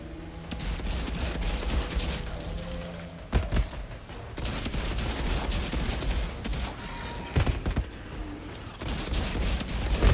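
Sustained automatic gunfire in Outriders rattles on nearly nonstop in a desert area, punctuated by a few louder booming shots, with brief gaps between bursts.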